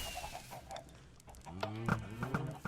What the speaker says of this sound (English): There's a bunch of chickens up there.